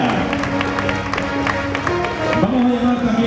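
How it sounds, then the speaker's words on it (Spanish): A crowd applauds steadily at a spring fair ceremony in Conil, dense sustained clapping with a few cheers, loud and continuous, with faint music underneath. "Y ese fuerte aplauso, sí señor, qué maravilla."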